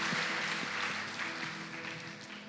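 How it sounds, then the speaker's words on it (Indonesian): A church congregation claps in a faint, diffuse wash of applause heard from a distance over a few seconds, with a faint musical tone underneath. "Berikan tepuk tangan buat Tuhan Yesus."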